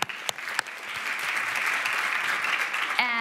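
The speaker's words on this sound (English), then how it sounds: "Cara Nortman, unbelievable, round of applause." A conference audience gives the panelists a round of applause at the 2019 MAKERS Conference: a thick, continuous wash of clapping from a large crowd, with a few sharp claps at the start and a brief tone near the end.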